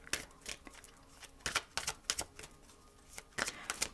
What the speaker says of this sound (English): I'm getting this energy of regeneration as I'm shuffling the cards here